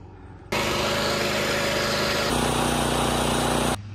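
A lawn mower cuts cricket pitch grass at a 7 mm setting on practice wickets, its engine starting abruptly and running as a steady, loud, close drone with a slight shift in tone partway before cutting off.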